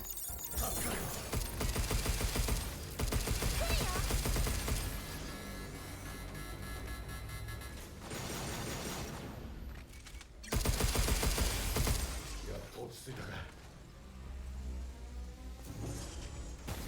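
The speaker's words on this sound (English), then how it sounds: "Take cover behind this corner until it's done shooting." Sustained enemy gunfire in a space-themed video game, loud rapid automatic bursts with mechanical clatter, broken by a brief pause before another heavy stretch of shooting.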